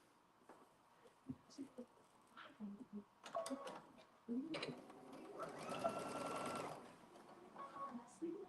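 A sewing machine stitching a bubble skirt: short bursts of rapid mechanical whirring, then a longer continuous run, close by, with a person speaking at times between the stitching.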